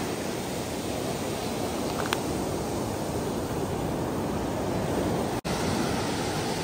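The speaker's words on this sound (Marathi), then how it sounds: "हा खवळलेला समुद्र, मालवणची किनारपट्टी" Rough monsoon sea surf breaks along the Malvan coast in Konkan, a constant loud broadband roar of churning waves with no voices, broken only by one sharp dropout near the end.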